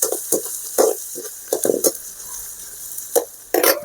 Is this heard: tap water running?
no